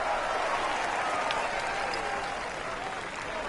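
A golf video game crowd applauds with a steady, dense roar of clapping that holds evenly and fades slightly toward the end.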